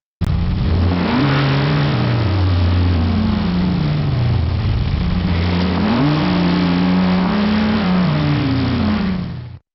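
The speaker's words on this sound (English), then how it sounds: "now we've got a Nissan GTR in a race car too, so this is supposed to sound like a fast race car" A synthetic race car engine meant to be a Nissan GT-R, generated by AI, revs up through rising and falling pitch sweeps twice over about ten seconds, loud and close with a buzzy, unnatural tone.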